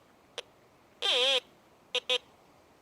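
Electronic beeps from a Bounty Hunter Land Ranger Pro metal detector over buried coins: a short chirp, a longer warbling tone, then two quick beeps, each sharp and close against a quiet background.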